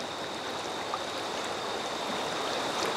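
A mountain stream runs beside a house in rural Vietnam, its steady rushing, gurgling flow continuous and close, with no voices over it.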